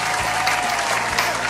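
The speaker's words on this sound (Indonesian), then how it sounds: "kasih tepuk tangan dong" A children's audience at a church kids' program claps in a dense, continuous burst, loud and close, with no talking over it.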